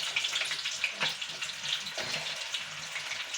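Jackfruit pieces fry in hot oil with curry leaves, giving a steady, close, bright crackling sizzle with small pops that runs without a break and with no talking.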